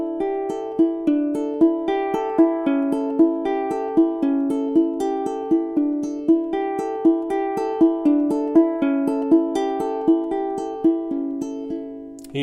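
A ukulele plays a Spanish-flavoured triplet fingerpicking etude in a three-finger roll, a steady stream of evenly spaced plucked notes that rises and falls gently in tempo, solo and close.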